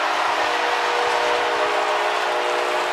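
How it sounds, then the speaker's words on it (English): A train horn blasts inside a domed football stadium after a touchdown, one long, loud, steady tone sounding over a roaring crowd. "that train horn in the dome is blasting away"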